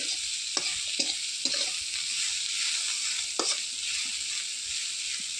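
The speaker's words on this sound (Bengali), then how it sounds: "কাঁচা লঙ্কা দিয়ে ভালোভাবে নাড়িয়ে নিলাম" Green chillies fry with onions in a hot pan over a clay stove, giving a continuous crackling sizzle with a few sharp spatula scrapes and knocks as everything is stirred, close and clear.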